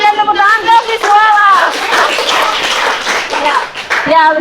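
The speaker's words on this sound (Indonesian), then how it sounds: "silakan kita berikan tepuk tangan ke visual" A classroom audience applauds a presenting student group, a burst of scattered clapping in the middle with voices talking before and after it.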